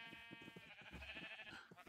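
A Minecraft sheep gives a short series of quick, wavering bleats, close and clear, lasting under two seconds.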